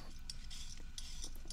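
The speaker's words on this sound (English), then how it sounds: "It's sizzling away." Food sizzles quietly in a pan on a home stove, a soft steady hiss broken by a few sharp clicks of a utensil stirring or scraping.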